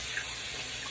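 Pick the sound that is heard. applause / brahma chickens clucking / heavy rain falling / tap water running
tap water running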